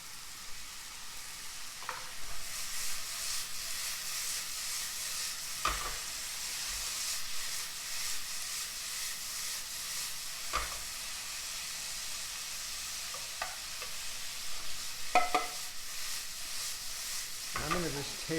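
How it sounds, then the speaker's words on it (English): Bacon and apples previously cooked with a little vinegar sizzle in a pan, a soft, steady frying hiss with occasional clinks and stirring scrapes, fairly quiet, with a few faint voice sounds. "I'm going to add the bacon now. And then we will also add the apples."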